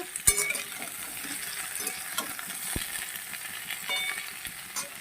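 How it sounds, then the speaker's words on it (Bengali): Food frying in a covered pan with oil, a steady soft sizzle with occasional clinks and stirring knocks, fairly quiet and close, no voices. "একটু ঢেকে ঢেকে এটাকে আমি ভেজে নেবো"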